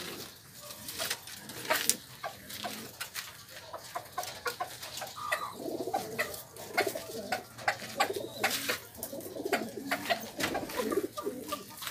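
A pigeon recovering from illness and moulting coos in soft repeated phrases among other pigeons and fowl, with scattered wing flaps and clucks around it.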